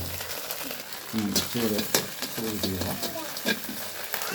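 Ingredients for pittu kottu fry in a pan with a steady broadband sizzle, stirred now and then, while a voice or tonal sound runs faintly underneath.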